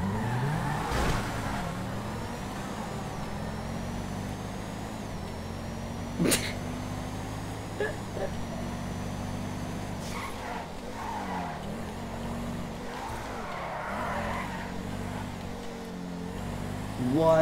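A Lamborghini Aventador in a video game race holds a steady engine drone with rising tone as it accelerates, marked by tire skids and a few sharp knocks, throughout the run.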